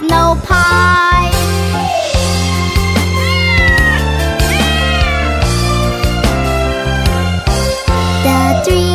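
Sung kitten meows from the children's nursery rhyme about three little kittens, repeated in a steady rhythmic line over a bright, full musical backing; the meows are voices imitating cats rather than real animals.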